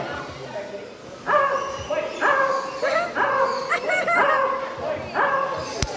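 A parrot mimics a dog, giving a series of short, bark-like yips in uneven bursts, with speech-like chatter around them at close range, at a bird show.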